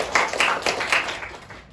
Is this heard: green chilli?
no